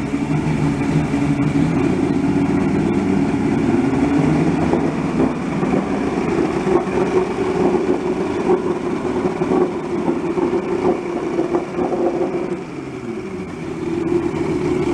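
An old outboard engine on a bass boat that sat unused for ten years runs continuously with a loud, rough drone and a steady mechanical rumble, close and without pause.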